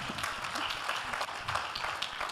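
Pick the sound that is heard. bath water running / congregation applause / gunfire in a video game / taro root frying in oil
congregation applause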